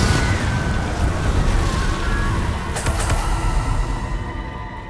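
A Confringo blasting spell goes off in Hogwarts Legacy: a dense roar of fiery noise with a sharper burst near the middle, set against continuous busy game sound.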